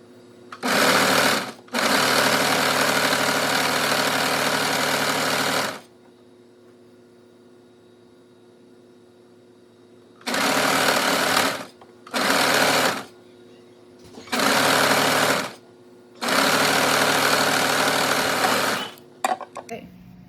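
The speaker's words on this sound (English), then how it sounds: "And we're gonna sew all the way down," Sewing machine stitching the side seams of a hoodie, running in six separate bursts of varying length with quiet pauses between them, loud and close.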